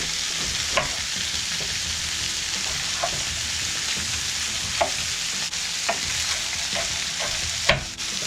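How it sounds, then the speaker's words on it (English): Green peppers fry in a pan for jambalaya with a constant close sizzle, broken by scattered spatula scrapes and clicks and one louder clank near the end. "I'm going to go ahead and add these peppers."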